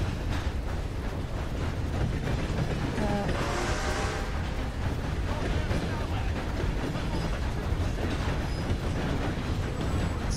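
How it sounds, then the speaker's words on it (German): A train running in Red Dead Redemption: a continuous, steady rumble of rolling wagons with faint clattering and a brief metallic squeal, heard close and at even loudness throughout. "Okay, mein Zug fährt."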